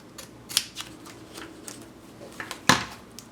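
Scissors snip through washi tape in a few quick, close, crisp cuts, scattered irregularly, with one sharper louder snip near the end; faint paper handling fills the quiet gaps.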